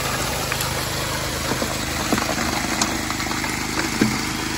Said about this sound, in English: Pump started slowing down a little bit. I think we're a little clogged, but we're pushing it.